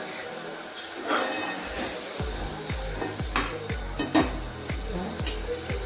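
Ground masala paste fries in oil for a black pea usal, a steady close sizzle joined halfway through by regular, rhythmic stirring strokes scraping the pan.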